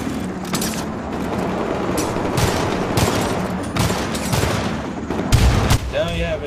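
A gunship firing in the co-op shooter Syndicate: loud sustained bursts of rapid fire and heavy booms pound continuously, with sharper blasts punching through near the end and players talking underneath.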